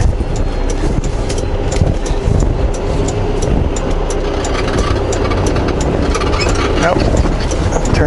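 A truck engine idles and rumbles continuously while the rig backs up toward a trailer, loud and close, with a voice talking over the steady drone.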